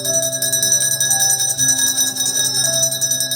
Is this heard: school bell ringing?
yes